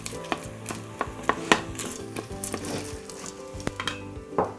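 Turmeric being stirred into a sizzling pot while making spinach dal, with repeated sharp metallic scrapes and clinks of a spoon against the pot over a steady sizzle, close and clear.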